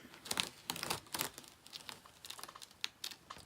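A material being peeled up with crinkling, soft, faint crackles and scattered papery snaps arriving in short irregular bursts, close by and without any talking.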